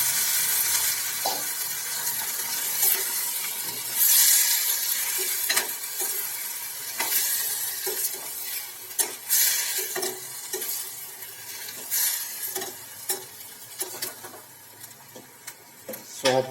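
Sprouted chickpeas and pigeon peas sizzle in a pan while a spoon stirs them, giving steady frying hiss broken by repeated scraping and clinking strokes at close range.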